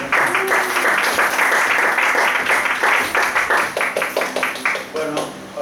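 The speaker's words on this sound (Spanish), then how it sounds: "Un aplauso." Audience applause at a Spanish talk on doping in the Tour de France, a full burst of many hands clapping that thins into more separate claps toward the end, with a voice starting to speak over it.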